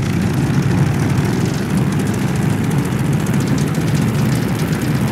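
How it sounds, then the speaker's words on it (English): A World War II era propeller aircraft engine runs up, a steady loud droning roar that holds constant throughout with no voices over it. "do an engine run-up. Make sure she doesn't blow out."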